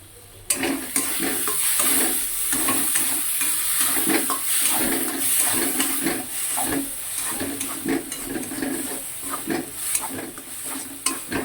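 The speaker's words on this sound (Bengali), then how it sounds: "যে নারকেলের পুরটা আমি কড়াতে দিয়েছি, দেখো ভাজা ভাজা হয়ে এসছে" Coconut filling fries in a kadai, with a steady sizzle broken by repeated scraping stirs against the pan at an uneven rhythm, close and fairly loud.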